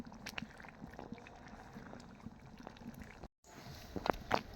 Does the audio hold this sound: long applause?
no